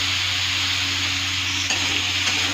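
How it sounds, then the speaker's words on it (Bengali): Vegetables seasoned with turmeric and salt are stirred in a hot pan, giving a steady, close sizzle with soft scraping strokes and a faint low hum beneath. "ভালো করে একটু নেড়ে চেড়ে দেবো।"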